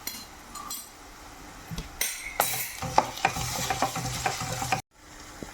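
Onion, ginger-garlic paste and green chillies frying in a pan, a steady sizzle broken by stirring strokes and light metal clinks of a spoon, close and fairly quiet, ending in a brief cut.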